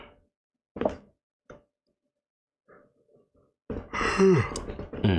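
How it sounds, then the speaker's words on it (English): A single big, drawn-out yawn from someone inking character art, rising close to the mic near the end after a few quiet breaths and small taps. "That was a big yawn."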